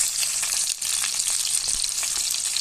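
Milkfish (bangus) frying in a pan of oil for fish sarciado, giving a loud, steady, close hissing sizzle with fine crackling throughout and no voices.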